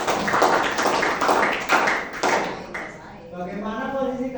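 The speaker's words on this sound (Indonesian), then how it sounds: "Oke, jadi tepuk tangan kepada" An audience claps for a couple of seconds in a sharp, uneven patter of hand claps, then the clapping stops and a voice begins speaking.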